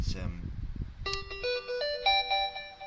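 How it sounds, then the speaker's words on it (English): A Binatone Brick mobile phone, a retro 80s-style handset, plays its loud power-on tone: a bright multi-note electronic melody of rising stepped chimes following a brief burst of speech. "Now I'm going to turn on the phone"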